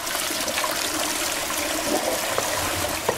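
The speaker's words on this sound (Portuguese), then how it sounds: "Depois de terminar, deem a descarga." A toilet flushes with a steady, full rush of water swirling and draining into the bowl, loud and close throughout, ending in trickling.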